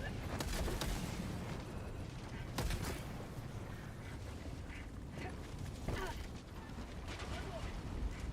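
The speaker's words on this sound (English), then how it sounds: "Pelican casually shooting me" Pelican dropship guns firing in Helldivers 2 during a chaotic fight, dense sustained gunfire and blasts with sharp bursts near the start and middle, loud and continuous, with a game voice briefly audible.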